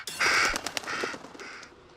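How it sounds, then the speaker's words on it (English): A crow caws in the horror video game Little Hope, a few harsh calls close together in the first second and a half, with no voices. "Bird."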